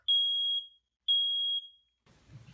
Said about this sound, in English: Press to test. This is only a test. The alarm will sound. The alarm is loud.